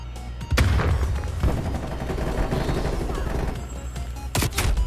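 Gunfire in a Call of Duty Black Ops Cold War team deathmatch: a dense, loud burst of automatic fire running almost continuously, punctuated by a few sharper bangs near the start and end.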